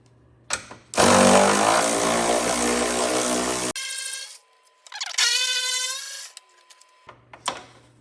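Close, loud whirring of a power tool backing out an 8mm headlight bolt on a Grand Marquis, a long steady burst followed by a shorter pitched run and scattered small clicks.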